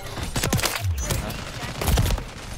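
The MX Guardian shotgun in MW3 fires in quick booming blasts, a few heavy shots spread over about two seconds against busy match noise.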